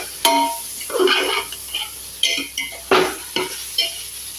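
Onions sautéing in a pan, with several scraping stir strokes of a utensil against the metal over a soft sizzle, close and alone.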